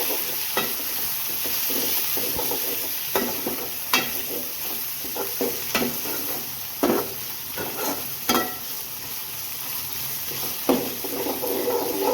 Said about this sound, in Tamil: இந்த ஸ்டேஜில் வந்து தக்காளி வதக்கிக்கலாம்